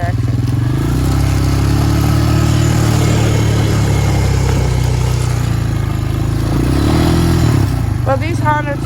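A Honda TRX ATV engine drones steadily and close while the quad moves over snow and ice, with a low, continuous mechanical rumble and a brief rise near the end. Someone talks over it.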